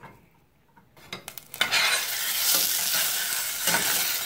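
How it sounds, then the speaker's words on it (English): Beans hit hot oil in a pot over medium-high heat, with a few sharp clinks and taps as they are stirred before a broad, steady sizzle takes over and continues loudly to the end. "drizzle a little bit of oil in this pot. And we're going to kind of be over a medium to high heat. And we're going to add the remaining beans."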